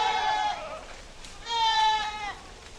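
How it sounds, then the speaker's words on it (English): Goats in a research pasture bleat loudly and close by, two long wavering calls one after another as they are called in by their keeper. "The does will have their babies next May in the research pastures, eating, Nolden says, what goats are born to eat"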